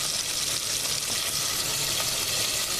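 Catfish nuggets fry in hot oil, giving a dense, steady sizzle and crackle heard up close and unbroken by any voices.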